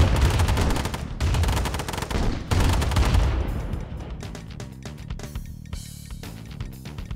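Heavy gunfire in Command & Conquer Remastered as a Nod Mammoth tank opens fire, loud dense bursts of shots and impacts that pause briefly, then resume before fading into lighter scattered hits and background game sounds.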